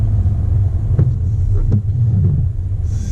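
Steady low engine rumble and tyre noise from a car moving slowly forward on a residential road during a driving test in Oxford's Florence Park, with a few faint ticks and no talk.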